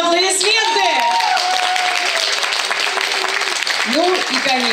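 Guests at a wedding ceremony applaud, a steady wash of clapping from a gathered crowd that carries through the whole moment while a voice speaks over it.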